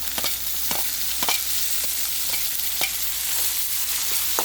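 Ginger garlic paste fries in a pan with a soft, constant sizzle while a spoon stirs it, scraping and tapping against the pan every half second or so, close and fairly quiet with no talking.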